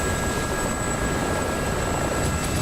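Military helicopters in a video game PvP battle throb with a constant, loud rotor and engine drone that holds steady throughout, with no talk over it.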